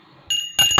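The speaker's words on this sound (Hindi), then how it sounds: "तो चलिए घंटी बजा दिए।" A small prayer bell rings twice at a home puja, each strike leaving a bright, sustained metallic tone that rings on; the second strike is louder and closer, with no talking over it.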